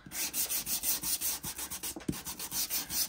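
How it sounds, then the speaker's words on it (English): Steady back-and-forth rasping of a sanding block over paper, a quick rhythmic scratch repeating without pause, close and fairly soft. "sanding it does burnish it to the paper as well"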